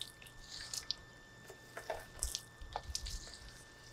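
A Wagtail water blade squeegee wipes down a wet window pane, giving soft, brief squishy wipes and faint drips in a quiet, irregular sequence with no talking.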